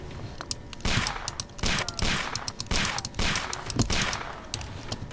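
Rapid bursts of gunfire in the video game Sherlock Holmes: The Devil's Daughter, several loud shots in quick succession with a ragged rhythm, no talking.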